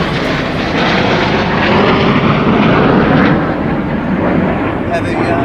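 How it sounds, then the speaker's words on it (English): F-35 fighter jets pass overhead in formation at an air display, filling the air with a loud, sustained broadband roar that swells and lingers. Spectators talk underneath. "They're the vertical takeoff and landing American fighters."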